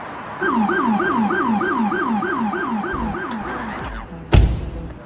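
An ambulance siren wails in a steady repeating up-down cycle, loud and close, continuing for several seconds before a sharp thump near the end.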